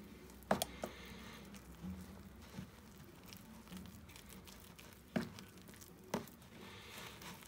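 Weetabix cake mixture being stirred in a bowl, with soft wet squishing and scraping punctuated by a few sharper knocks of the spoon, quiet and close.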